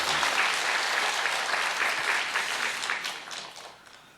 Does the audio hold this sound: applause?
yes